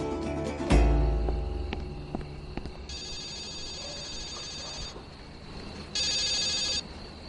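A telephone bell rings in two bursts, a shrill electronic trill lasting a couple of seconds each, over low background noise and a brief thump.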